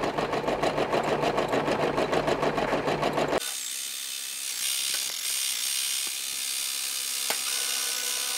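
A sewing machine stitches a patch with white bobbin thread in a fast, loud, even mechanical clatter for about three seconds, then stops, leaving quiet room noise and a few small clicks.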